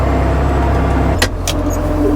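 A tractor pulling a plough through a field gives a steady, close, low engine drone, with a couple of brief higher scrapes or squeaks partway through.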